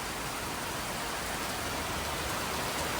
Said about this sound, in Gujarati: હા વરસાદ સારો એવો વરસાદ આવે.